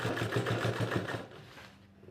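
A sewing machine stitches along the edge of an apron collar in a quick rapid chatter, fairly quiet and close, then slows and fades out.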